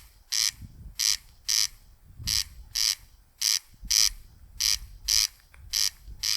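A raspy, buzzing croak from a bird in the Hebrides repeats about a dozen times in a fairly regular rhythm, loud and close, over faint low background noise.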